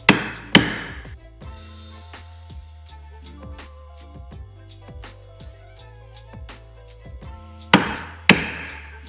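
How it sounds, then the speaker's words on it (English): A flathead screwdriver taps a rear main seal into place around the crankshaft, giving a series of sharp metallic knocks with ringing tones, two louder strikes at the start and two near the end. "now we'll go around the outside lip with a flathead screwdriver. Just tap it down."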